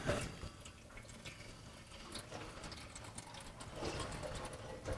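Water trickles and drips steadily from the transmission of a 1994 Chevy 1500 during a transmission service, close by, a faint patter with light mechanical clicking, no voices.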